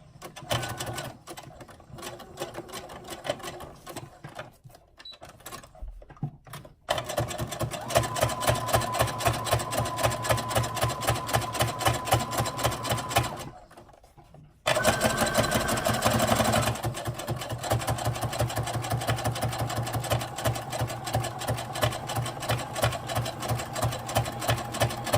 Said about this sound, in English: So just do a quick top stitch again with the zigzag stitch.